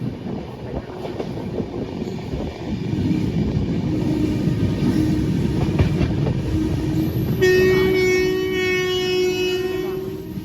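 A train rumbles and clatters steadily along the tracks at a station, then a loud horn blasts for the last few seconds over the rolling noise.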